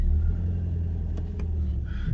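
A broken car's engine idles in first gear with a steady low rumble close by, plus a couple of faint ticks and a brief higher whir near the end.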